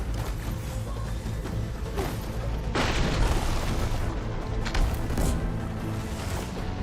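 A mech suit fires its weapons in the Horizon Forbidden West video game, producing a continuous loud roar of blasts and booms with several sharper bursts partway through, close and dense, with no talking.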